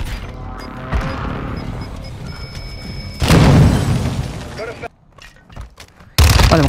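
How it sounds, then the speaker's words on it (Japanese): Airstrike explosions in Call of Duty Warzone 2: heavy booming blasts that burst in loudly, with crackling debris between them, then a short quiet gap before another loud burst hits. A player speaks over parts of it. "空爆落としておきましょう、あそこに。"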